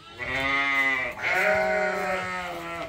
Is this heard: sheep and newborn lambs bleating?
yes